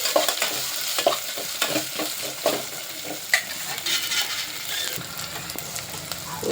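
Onion, green chili and ginger stirred in a hot pan for masoor dal khichdi: steady oil sizzle with repeated spoon scrapes and clacks against the pan, close and alone.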